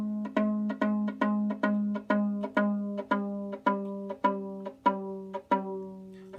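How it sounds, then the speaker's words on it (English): A violin string is plucked about a dozen times at an even pace while its fine tuner is loosened counterclockwise, each clear, ringing pluck sitting slightly lower in pitch than the one before. "you're going to loosen the string by turning the fine tuner to the left or counterclockwise direction"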